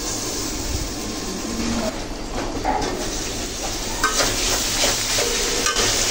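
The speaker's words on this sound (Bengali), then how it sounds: "2 থেকে 3 মিনিট সময় নিয়ে কষিয়ে নেব" Potatoes and vegetables being sautéed in a pan for a small fish curry, a dense continuous sizzle with faint stirring clatter, close and steady with no talking.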